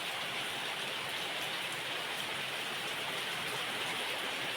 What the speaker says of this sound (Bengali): আর এই বৃষ্টি হচ্ছে